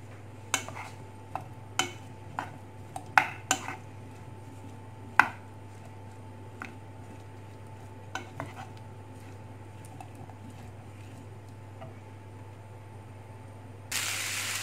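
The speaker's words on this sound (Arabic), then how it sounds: "فبالنسبة للعافية خصها تكون شوية مجهدة باش هكذا دغيا كتشحر لينا هاد الخضر ديالنا" Potatoes and vegetables cooking in a hot pan with marinade, the utensil clattering and scraping against the pan in scattered sharp knocks over a steady low hum and faint hiss, with a louder burst of sizzle at the end.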